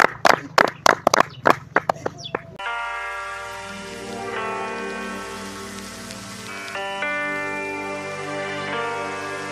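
Audience at a community meeting claps in a quick, rhythmic burst of about eight sharp claps, which then give way to sustained music.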